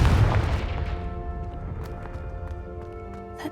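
A booming Confringo blasting curse explosion in Hogwarts Legacy, loud at the start and decaying into a long rumbling tail with faint debris clatter.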